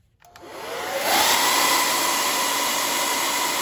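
A cheap blow dryer switching on and running steadily to heat a leather axe sheath, rising within a second to a loud, close, constant whirring blast with a high whine, with no talking.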